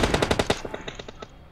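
Automatic gunfire in PUBG on the Sanhok map rattles in a rapid close burst of about eight shots, then carries on as quieter, more distant shots that thin out.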